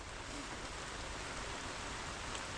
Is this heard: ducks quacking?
no